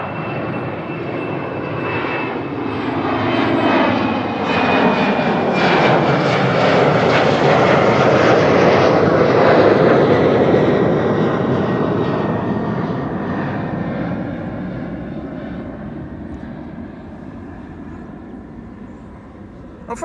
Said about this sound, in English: First airplane of the show, an Embraer 190 to Trondheim by the looks of it.